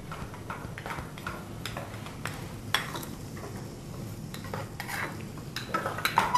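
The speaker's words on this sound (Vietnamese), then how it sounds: "Và trộn đều lên" A utensil stirs a thick pomelo mixture with cooking oil in a pan, making steady close scraping and clinking strokes that speed up toward the end, with no talking.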